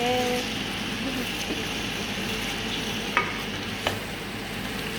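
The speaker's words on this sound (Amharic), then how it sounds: "ያው አሁን በጣም አሪፍ ሆኖ እየተቆላላለኝ" Bell peppers, green and yellow, frying and being stirred in a pan for Ethiopian chicken stew, a steady close sizzle with a couple of sharp utensil scrapes.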